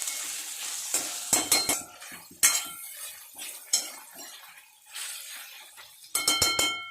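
Round gourd (tinda) sautéed with salt in oil, heard as bursts of spatula scraping and metallic clanks against the pan, separated by quieter gaps, with a light sizzle underneath and no voices.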